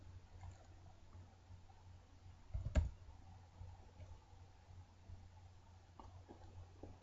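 A single Enter key press on a computer keyboard while running a retail point-of-sale cashier program: one short, sharp click in an otherwise quiet room with a low background hum, no talking.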